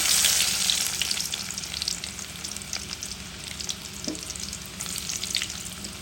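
Garlic frying in hot oil in a pan for a fish and water spinach dish, with a loud crackling sizzle at first that settles into a steady fizz and occasional stirring scrapes.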